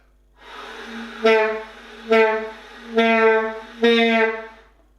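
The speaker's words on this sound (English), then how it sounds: "I get so much air through my saxophone that's really opening up my sound" Breathy airflow through a saxophone swelling into four reedy, buzzing tones, each rising then fading, evenly spaced and fairly loud.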